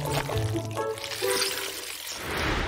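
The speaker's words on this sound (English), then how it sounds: "Here's some water to make cleaning the board easier." Water poured out to help clean a board, a close, steady gurgling pour over a continuous background hiss, with no one speaking.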